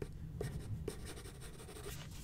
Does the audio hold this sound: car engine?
no